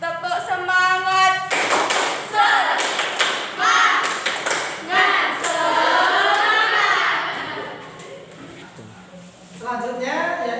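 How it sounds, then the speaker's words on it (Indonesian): A classroom group does rhythmic spirit clapping, sharp patterned claps mixed with children's voices and a teacher talking over them. "kita kasih tepuk tangan semangat"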